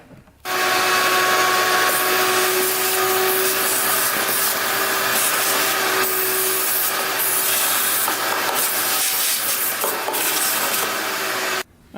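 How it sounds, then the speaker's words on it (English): A vacuum cleaner sucks debris out of a Honda 400ex quad's air box, starting abruptly with a steady loud whir, rough scraping and rattling as the nozzle works, then cutting off. "Alright, let's get that vacuumed out."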